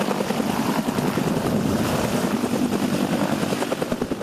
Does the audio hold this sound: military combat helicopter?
yes